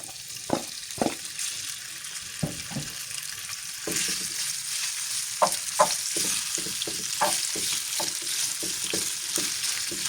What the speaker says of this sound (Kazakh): Енді тавамызға 3-4 қасық май құйып, етімізді қуырып аламыз.